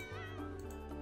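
A cat in The Sims 4 meows once, a clear, fairly close, tonal call that rises slightly and then holds, heard alone with no talking.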